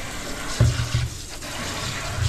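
Water runs and gushes in a newly installed toilet, a short close burst of flushing and filling with a few low gurgles over about two seconds, with no talking.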